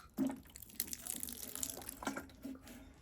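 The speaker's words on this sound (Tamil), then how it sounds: "இப்போ தண்ணி ஊற்றுறேன்" Water splashes and trickles softly onto soil around a newly planted curry leaf plant in a garden, faint and close, in a few irregular pours.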